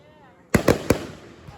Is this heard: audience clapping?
no